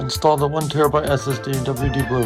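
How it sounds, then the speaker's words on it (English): A pet cat meows in a home setting near an iMac being upgraded, with several short, close, tonal mews in quick succession while a person talks at the same time. "That's my cat."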